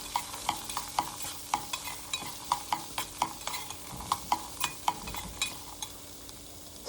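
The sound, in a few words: stirring raw peanuts in a pan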